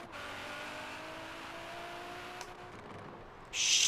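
Alpha G R35 GTR tuned to 3,000 horsepower in Forza Horizon 3, a steady engine drone holding under wind rush while accelerating hard, then a brief bright hiss near the end.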